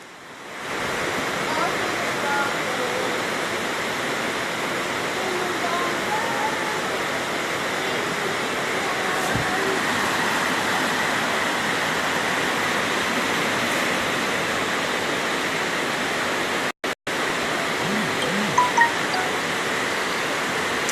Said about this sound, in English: It's Sunnyside housing scheme and it is flooded.